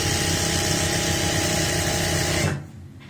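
Sewing machine stitching an elastic waistband onto a palazzo, a loud, fast, steady mechanical whir running continuously before stopping abruptly near the end.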